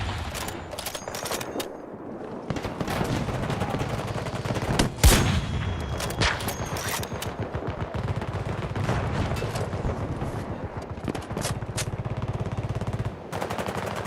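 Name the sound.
gunfire in video game Battlefield 2042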